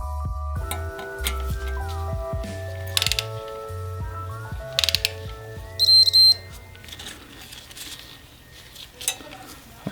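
Ratcheting wrench and small metal clicks while tightening the oil pickup strainer bolts on a Subaru EJ257 engine to 6.4 Nm, with a steady tonal hum throughout and a few sharp louder clicks partway through.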